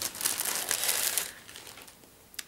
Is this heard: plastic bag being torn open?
yes